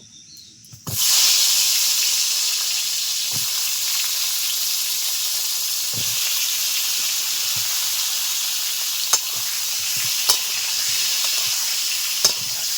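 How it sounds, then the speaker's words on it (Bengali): Pointed gourds drop into hot oil in a pan and fry with a loud, steady sizzle that starts abruptly and holds, broken by a few light clicks of a spatula. "তেলটা ভালো করে গরম হয়ে গেছে পটলগুলো হালকা করে ভেজে নেব"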